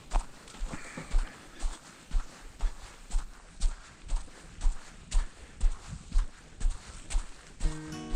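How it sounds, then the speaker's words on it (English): Footsteps crunching on cold, frozen snow along a winter trail near Lisbon, Ohio, in a steady walking rhythm of about one step every half second, close and clear, with no talking. "you can hear that the footsteps, kind of a high-pitched, crunchy sound"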